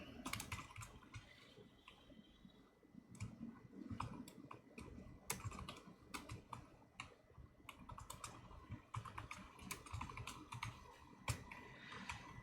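Someone types steadily on a computer keyboard while entering product listing details, with quick irregular clicks close by in a quiet room and no speech.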